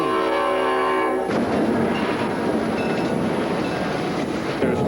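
Freight train rolling on steel track, heard from inside: a horn-like tone fades into a loud, continuous rumbling clatter of wheels and cars that persists to the end.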